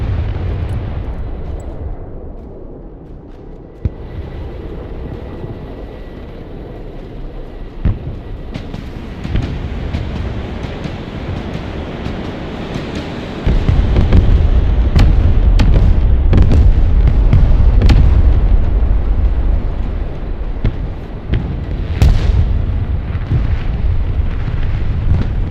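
Artillery explosions in the video game Broken Arrow: scattered booms and rumbling blasts under a constant battlefield roar that swells heavier and louder partway through, with sharp impacts popping out at irregular moments.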